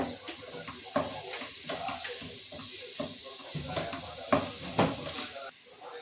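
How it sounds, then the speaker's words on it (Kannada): Vegetables and mushrooms sizzle in a pan with black soy sauce and vinegar, close frying hiss broken by irregular stirring scrapes and clinks of a utensil against the pan. "ಸೋಯಾ ಸಾಸ್ ಬ್ಲ್ಯಾಕ್ ಸ್ವಲ್ಪ ಫ್ರೈ ಮಾಡ್ತಾ ಇದ್ದಾರೆ"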